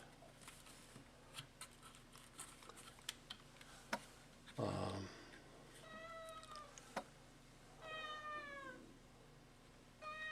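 A cat meows twice, drawn-out calls a few seconds apart, amid quiet clicks and taps and a short burst of rustling.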